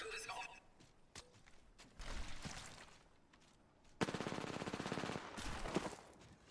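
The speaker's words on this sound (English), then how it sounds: "Taking fire." Gunfire in the video game Apex Legends crackles in bursts, with a sustained rapid automatic volley in the second half, loud against quieter stretches of in-game sound.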